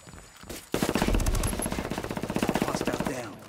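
Submachine gun fire in the video game Ghost War, a rapid sustained burst of loud close shots in quick rhythm lasting a few seconds after a brief quieter lead-in.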